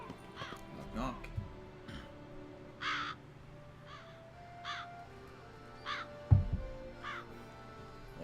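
Crows caw repeatedly in The Witcher 3: Wild Hunt, a string of harsh calls spaced every second or two, moderately distant, over a low ambient drone with occasional footsteps or thuds.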